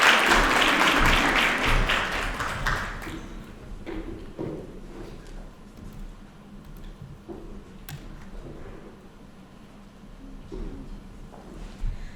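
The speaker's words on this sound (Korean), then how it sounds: "큰 박수 부탁드립니다." An audience at an education fair claps for a high school student coming to the stage: dense applause for about three seconds, then thinning to scattered claps and fading out.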